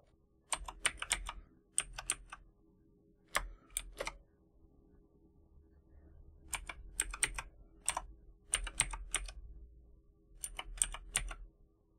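Bursts of rapid keystrokes on a computer keyboard as a path is typed into the Windows File Explorer address bar, clustered runs of clicks separated by pauses, close and clear with no speech.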